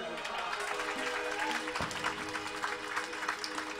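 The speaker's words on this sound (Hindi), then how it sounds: "मेरे लिए क्या ताली बजाएंगे आप?" A live audience claps steadily at a Diwali darbar gathering, a dense wash of applause with a voice speaking over it throughout, and a tonal hum underneath.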